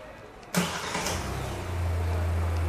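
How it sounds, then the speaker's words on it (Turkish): A 2019 Kia Sportage engine cranks and catches with a sharp burst, then settles into a steady low idle hum that grows slightly louder and fuller, close by and with no talking. "Çalıştırın arabayı."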